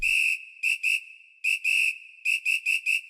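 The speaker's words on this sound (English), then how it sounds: "he uses percussive and kind of samba elements into his tracks, like this samba whistle" A shrill whistle blows in short rhythmic bursts, one long blast followed by quick double and quadruple toots in a samba-like pattern.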